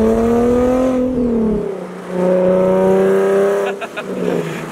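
A Nissan 370Z fitted with a new Tomei exhaust revs hard close by, its harmonic engine note climbing and dropping through a few loud throttle blips with brief crackles as the revs fall.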